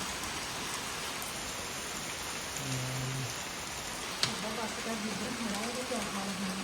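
Heavy rain just beginning to pour on rooftops, a steady dense hiss holding throughout, with a sharp knock midway and a voice speaking faintly beneath the downpour.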